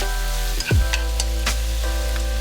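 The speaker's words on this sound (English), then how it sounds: "Add the beech mushrooms to the pan and stir fry for 30 seconds." Beech mushrooms stir frying in a hot pan for a Chinese bok choy and mushroom dish, a steady close sizzle with a brief burst as they hit the oil, then a few light stirring scrapes.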